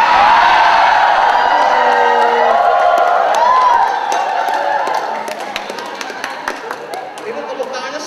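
Audience applause with cheering and whoops from a crowd at a talk, loud at first and then easing off after a few seconds into scattered claps.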